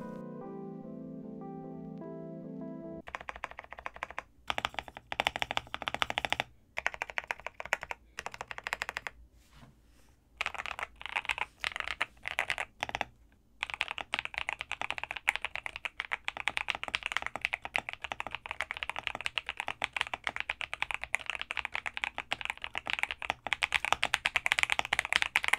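Fingers type on a Zuoya GMK67-S budget mechanical keyboard with tactile switches and cherry profile keycaps, giving a long run of close, crisp clacking keystrokes at a varied rhythm after a short opening musical tone.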